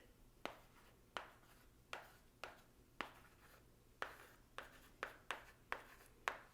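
A Morphe 35G makeup brush scrapes in about a dozen short, sharp strokes at an uneven pace, each a scratchy swipe much like chalk on a chalkboard, close and quiet with no talking.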